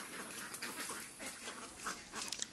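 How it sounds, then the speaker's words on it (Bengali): Ducks feeding on snails at a pond, a continuous busy wash of dabbling and pecking noise with scattered quacks, moderately near. "দেখুন এই যে হাঁস খাচ্ছে কত সুন্দরভাবে।"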